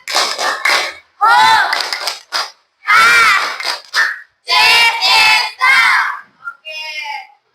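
A class of schoolchildren does a spirit clap chant, shouting loud rhythmic syllables in unison in short bursts separated by brief pauses, with claps mixed into the chanting and a final softer, higher call.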